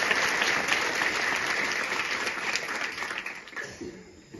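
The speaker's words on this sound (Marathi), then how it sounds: "या शिक्षकांसाठी एकदा जोरदार टाळ्या वाजवून त्यांचे आभार मानतो" Audience at a felicitation ceremony honouring a newly appointed police sub-inspector breaks into sustained, dense applause that fades slightly toward the end.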